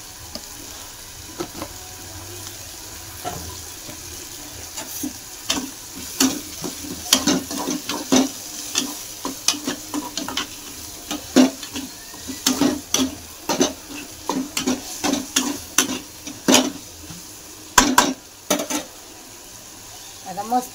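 Food frying in oil in a home kitchen, a steady hiss under repeated clinking and scraping of a spoon stirring in the pan, with someone speaking at times.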